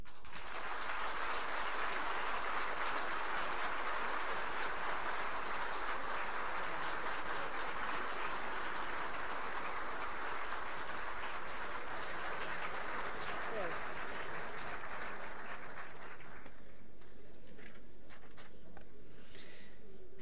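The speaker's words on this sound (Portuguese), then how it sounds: "peço a todos que deem mais um caloroso aplauso à nova Procuradora-Geral da República" Guests at the swearing-in ceremony of Raquel Dodge as Brazil's Prosecutor-General give sustained applause, a dense, even roar of clapping from a large hall that fades out near the end, heard from some distance.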